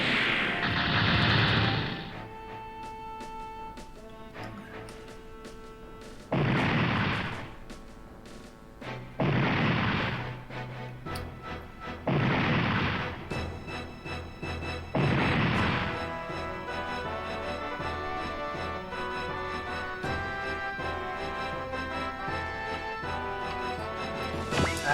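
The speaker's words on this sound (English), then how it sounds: "Missile 一斉発射" Heavy missile barrage explosions in Super Robot Wars Alpha, several loud booming blasts in quick succession over a sustained game music bed, ending in a dense roar of impacts.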